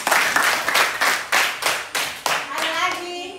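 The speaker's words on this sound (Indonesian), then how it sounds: "Tepuk tangan untuk Sony dulu." Primary school pupils in a classroom clap for a classmate in a loud, unison rhythmic pattern of about eight sharp beats, then a voice speaks as the clapping ends.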